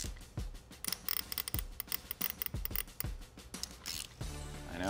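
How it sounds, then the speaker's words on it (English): A rust-seized spark plug is forced out of the threads of a burnt junkyard 6.4L Gen III HEMI engine, producing harsh grinding squeaks and crunchy ratcheting bursts in an irregular rhythm, close and gritty. "Because of rust in some of the threads, the spark plugs were pretty gnarly coming out"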